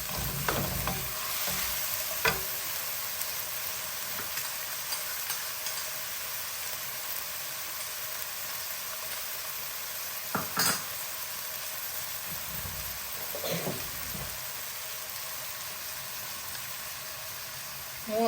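Peppers and mixed vegetables sauté in a pan, with a steady low sizzle running throughout and occasional stirring scrapes and clinks, close and alone without talk.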